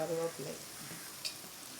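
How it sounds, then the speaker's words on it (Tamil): Small onions and curry leaves fry in a hot pan with a soft, steady sizzling hiss. A brief faint murmur sounds at the start, and one sharper crackle pops partway through. "இப்போ வெங்காயம் போட்டோன்னே கருவேப்பிலை போடுறேன்."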